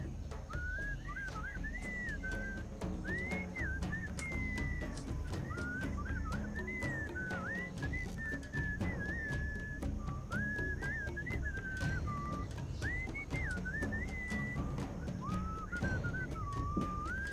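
A melodic whistled tune winds on steadily in the Sam & Max: Beyond Time & Space video game, rising and falling phrases over a busy low background with scattered clicks.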